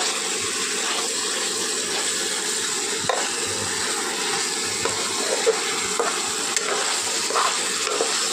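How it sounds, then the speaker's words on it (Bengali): Potatoes and eggs sautéing in spiced oil for egg biryani, a steady close sizzle and fry with occasional stirring scrapes throughout, no voices. "আবারও একটু কষিয়ে নেব আলু আর ডিম দিয়ে।"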